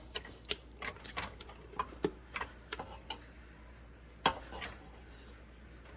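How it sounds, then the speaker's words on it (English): A spatula scrapes and knocks against the bottom of a bowl of brown-buttered pecan cheesecake batter, giving quiet, irregular taps and scrapes spread over several seconds. "take your spatula, scrape the bottom"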